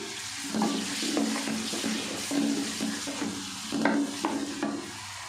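Steady sizzling of tomatoes frying in a pan of potato and fenugreek curry, with repeated scraping and clattering strokes of a spoon stirring it, close and moderately loud, no talking.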